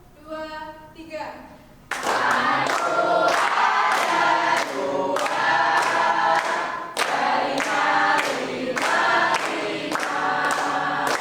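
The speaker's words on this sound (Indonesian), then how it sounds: "Dengan tepuk tangan ya anak-anak." Schoolchildren in a junior high classroom sing a song together, clapping their hands in a steady beat throughout, loud and close, after a brief lead-in from a single voice.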